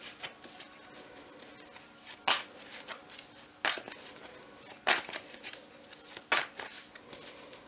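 Tarot cards being shuffled in four or five brief, crisp riffling bursts spaced a second or so apart, close and fairly quiet, with no talking.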